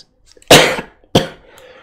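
Two sharp, loud coughs from a person with a very dry mouth and throat, close up, spaced about half a second apart with quiet in between.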